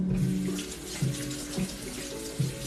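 A measuring spoon rinsed under a running kitchen tap, a steady close splash of water that swells briefly a few times as the spoon passes through the stream, with no talking.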